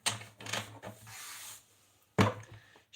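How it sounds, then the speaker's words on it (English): Tarot cards are shuffled by hand, making quiet papery riffles and rubbing bursts close by, including one louder flurry, with no talking. "Okay, so let's do some shuffling."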